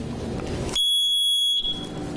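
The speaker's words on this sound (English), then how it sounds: "that's kind of like a beep letting you know, hey, it's working" Carbon monoxide detector giving a single loud, piercing electronic beep lasting under a second after its tag is removed, set against quiet room background.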